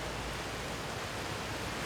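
Flowing water in the Skyrim video game pours in a steady, broad rushing hiss like a waterfall or stream, constant and fairly loud with no talking.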